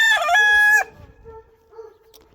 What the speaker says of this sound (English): I'll probably be breeding her with this pumpkin rooster next year